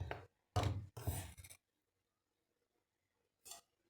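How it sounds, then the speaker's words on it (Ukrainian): A few muffled clunks and scrapes of a metal frying pan set down on a stove and shifted, close by, then quiet with one more soft knock near the end. "Тепер сковорідку ставлю на плиту"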